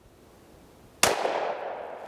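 A single sharp shot from a Smith & Wesson M&P 5.7 pistol with its magazine dropped, fired outdoors after a second of quiet, followed by a fading echo.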